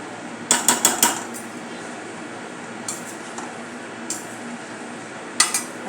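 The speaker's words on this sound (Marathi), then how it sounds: "आपल्या भाज्यांना सर्व मसाला कोट होईल अशा प्रकारे आपल्याला मिक्स करायचे आहे." A metal spoon clinks against a pan several times in quick succession while vegetables are tossed with spice masala, followed by a few sparse, fainter scrapes and taps over a low background hiss.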